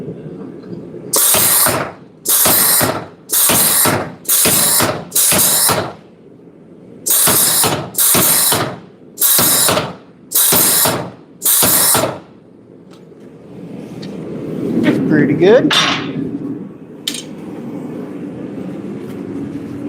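Heavy rhythmic pounding of a power hammer forging an axe, ten loud metallic strikes in two bursts, followed by scraping and a brief spoken remark.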